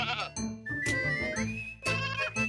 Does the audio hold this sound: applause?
no